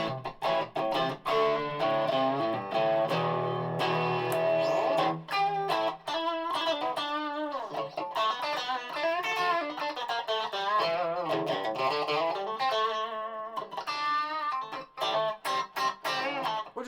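Electric guitar played through a TC Electronic El Cambo overdrive pedal, a continuous driven tone with chords and lead lines sustaining loud and close, with no talking.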